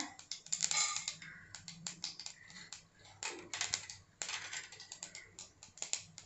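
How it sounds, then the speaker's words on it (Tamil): Mustard seeds splutter and pop in hot oil in a pan, a faint scatter of quick irregular crackles coming in bursts, with a low background hum. "எண்ணெய் சூடாகட்டும் கடுகு சேர்த்துக்கிறேன்"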